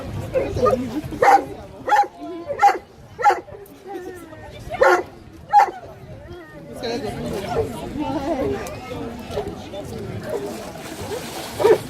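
A water rescue dog barks in a series of sharp, separate barks during a rescue demonstration, with chatter and voices from a crowd mixing in and carrying on after the barking stops.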